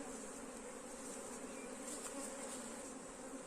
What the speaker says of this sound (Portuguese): Olha só como o enxame já está calmo, né?